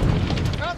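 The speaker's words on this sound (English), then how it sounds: "Bomb the first carrier." A bomb detonates on an aircraft carrier in Call of Duty: Vanguard, a short, heavy, rumbling blast that fills the low end while a voice talks over it.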